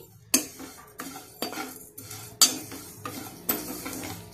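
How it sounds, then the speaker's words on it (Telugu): Vermicelli being stirred and fried over high flame in a pan for semiya sago payasam, with a metal spoon scraping and clinking against the pan in regular strokes over a soft sizzle. "దీంట్లోకి సేమియా వేసుకొని దోరగా వేపుకోవాలండి."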